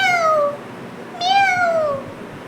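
A person's voice imitates a kitten's meow, giving two drawn-out, wavering mews with a short gap between them, clear and close, with no other talk.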